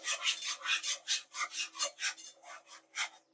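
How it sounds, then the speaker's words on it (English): A whisk beats candied yam ingredients together in a bowl, about a dozen quick rhythmic scraping strokes in an even, close-up series with no talk. "Now we get a whisk. And we whisk it together."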